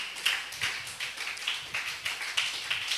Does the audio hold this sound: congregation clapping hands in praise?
yes